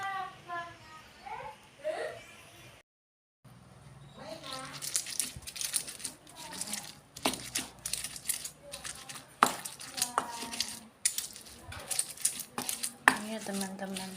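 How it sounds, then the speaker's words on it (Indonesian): Green chilies pounded coarsely with a stone pestle in an ulekan for sambal, giving repeated uneven stone-on-stone thuds and grinding knocks close by, with a voice heard faintly at times. "aku ulek dulu cabenya"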